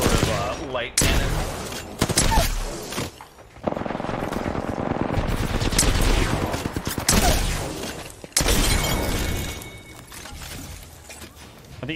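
Loud bursts of rapid light-cannon gunfire and heavy booms in a video game, some long sustained volleys, with brief pauses between them and occasional voices.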